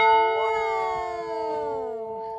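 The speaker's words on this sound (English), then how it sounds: "Would you like to give us a demonstration on the bell, Jeff?" A large old bell at Yuma Territorial Prison, Arizona, rings once, loud and close, its rich overtones humming and slowly fading as the tone sustains.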